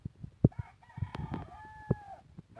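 Tethered roosters crowing on a farm, a few short crows and clucks nearby in quiet surroundings, one clearer crow around the middle with fainter calls around it.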